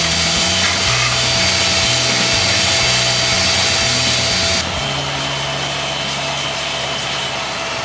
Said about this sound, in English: Of course there is sanding to be done after lamination.